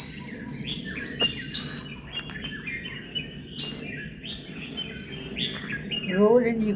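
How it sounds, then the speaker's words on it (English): A sunbird gives two sharp, high chirps a couple of seconds apart, followed by a brief whistled trill near the end, all set against a low, steady outdoor background. "Vigor sunbirds has a high-pitched, rapid series of chirps and whistles."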